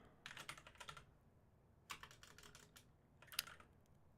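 Fingers type on a computer keyboard in three quick bursts of rapid clicking separated by short pauses, close but faint, with no voices.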